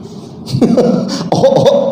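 Several short, harsh coughs in quick succession, close and fairly loud, with no other sound.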